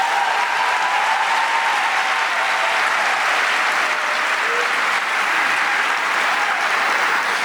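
Audience applause at an opening day speech: a dense, steady wash of clapping from a large crowd, loud and unbroken for the whole stretch.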